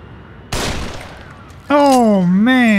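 A rifle in The Evil Within goes off in a sharp, loud crack. After a pause there is a second, heavier blast, followed by a droning, wavering tone that dips and rises. No one speaks.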